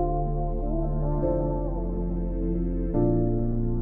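An unprocessed beat melody plays in pattern mode for a track, a steady layered synth line over sustained bass with a fuller chord change near the end, loud and continuous with no talking.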